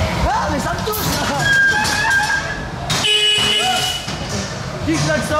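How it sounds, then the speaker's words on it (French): A horn honks at a funfair ride in Tours, a short, loud blast standing out amid busy fairground noise and excited voices talking nearby. "Qui klaxonne là?"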